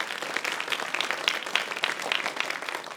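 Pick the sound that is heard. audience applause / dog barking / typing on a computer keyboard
audience applause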